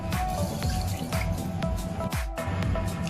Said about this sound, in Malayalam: ഈ അരിയിലോട്ട് നമുക്ക് ആവശ്യത്തിന് വെള്ളം ഒഴിച്ചു കൊടുക്കാം